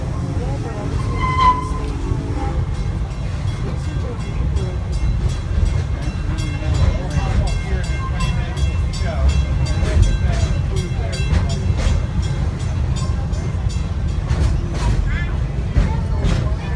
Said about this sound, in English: Please remain seated until the train comes to a full stop at the station, folks.